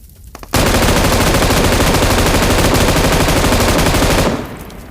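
Automatic gunfire rattles continuously for about four seconds at an armored vehicle in PUBG Mobile, a loud, dense stream of rapid shots that begins abruptly and then cuts off.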